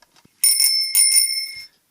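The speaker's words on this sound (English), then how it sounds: "Next up, y'all, is a Schwinn bicycle bell." Schwinn bicycle bell rung twice in quick succession, each bright metallic ring sustaining and fading, close and clear with no talking.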